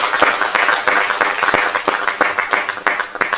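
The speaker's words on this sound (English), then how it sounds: "Kindly please let us give him another round of applause" An audience at a funeral conference in Kenya claps together, a loud, close burst of dense hand claps that stays steady for a few seconds.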